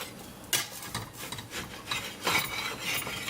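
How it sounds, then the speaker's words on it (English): Buttered potato naan is scraped across a hot tawa, heard as repeated rough rasping strokes, several uneven scrapes in quick succession, close and moderately loud with no speech. "After adding butter, we're going to scrape the naan"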